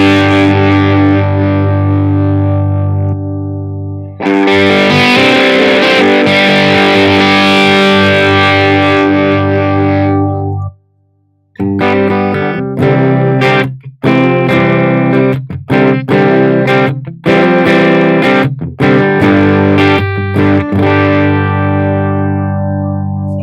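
Electric guitar played through the Placater amp model on a Line 6 HX Stomp, loud distorted sustained chords, then a short pause and choppy rhythmic riffing with abrupt stops, heard alone.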